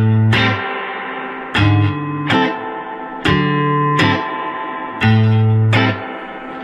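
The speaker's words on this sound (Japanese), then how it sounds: "このこういうね、あのちゃんとしたスプリングリバーブをそんなに聞いたことないんで" Guitar played through a Fender Tone Master Princeton Reverb amp with spring reverb: loud strummed chords struck about six times, each ringing out with a washy, echoing reverb tail, no talking.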